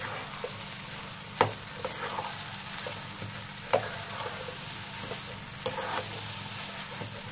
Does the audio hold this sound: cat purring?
no